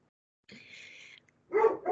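A dog gives a thin whine, then after a short silence lets out two quick, close barks.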